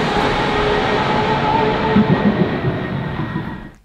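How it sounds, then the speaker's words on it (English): A loud, continuous mechanical roar from a GMA T.50s Niki Lauda supercar's engine induction noise as it approaches, with rumbling low end, holds steady for several seconds, then cuts off abruptly at the end. "you really hear the induction noise as it comes towards you"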